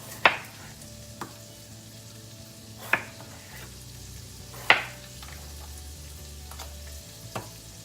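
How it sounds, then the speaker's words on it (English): Steady low sizzling of bacon frying in a pan, with a few sharp clinks and taps of utensils scattered through, no talking. "I have some bacon that's frying over in our other pan."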